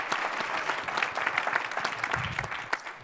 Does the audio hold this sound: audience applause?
yes